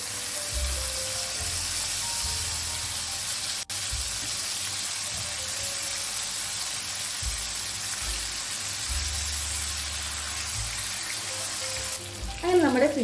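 King fish frying in a pan on a gas stove, a steady close sizzle with low bubbling and a couple of brief clatters, the fish turned near the end.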